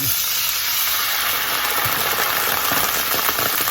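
Half a cup of white wine hitting a hot pan with browned chicken bits, a loud continuous bright sizzle and hiss of steam, steady and close with no voice over it.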